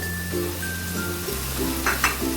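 Shrimp and taro stolons sauté in a pan, a steady close sizzle running through the short stretch with a couple of brief stirring scrapes and clinks near the end.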